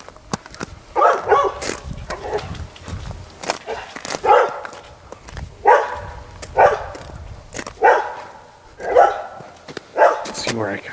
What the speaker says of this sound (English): he's got a tree up there that he loves to bark at